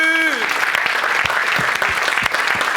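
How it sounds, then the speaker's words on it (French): A church congregation applauding and acclaiming Jesus, with dense, loud, continuous clapping and cheering voices filling the space throughout. "Acclamez Jésus!"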